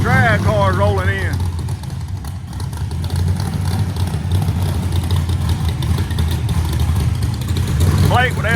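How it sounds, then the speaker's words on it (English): Drag race cars roll in at a racing event, engines rumbling and idling loudly nearby in a steady drone, with voices talking over the noise. "They got the drag cars rolling in."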